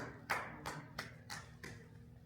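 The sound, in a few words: audience clapping at seminar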